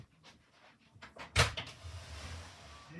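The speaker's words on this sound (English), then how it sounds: "I've opened the door now" A door is opened indoors with one sharp close thump or latch knock, followed by lighter rattling and a faint rush of outside ambience, all fairly quiet.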